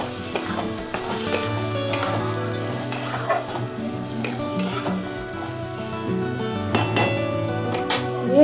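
Food fries over a wood-fired clay stove as salt and turmeric are stirred in, a constant sizzle broken by repeated scraping and clanking of a utensil against the pan, close and prominent, with faint background sounds underneath.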